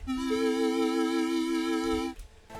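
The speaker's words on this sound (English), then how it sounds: "And the synth sounds like this." A sustained synthesizer tone with rich, bright harmonics holds steady for about two seconds, then cuts off, leaving a faint tail.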